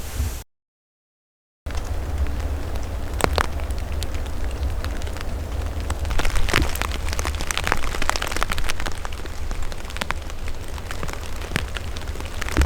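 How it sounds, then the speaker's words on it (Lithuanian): Steady patter of rain on a tent overhead, with occasional heavier drops tapping close by, continuous and fairly loud. "Labas rytas, lietus lyja, sėdžiu palapkiai"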